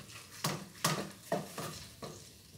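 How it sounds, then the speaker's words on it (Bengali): Fried fish being lifted out of hot oil, with a soft sizzle under five distinct scraping clinks of a utensil against the pan, spaced about half a second apart. "এবার মাছগুলো তুলে নিচ্ছি।"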